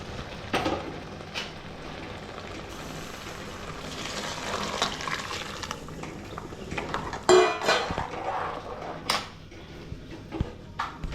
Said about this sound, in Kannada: ಆಮೇಲೆ ಹೇಳ್ದಂಗೆ ನೀರನ್ನು ಕೂಡ ಹಿಂದಿಂದನೇ ಹಾಕೊಂಡ್ಬಿಡಿ.